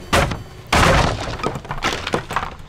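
Objects being smashed above the player in a video game, heard as loud breaking and shattering crashes: two heavy bursts followed by a run of smaller crunching impacts and debris.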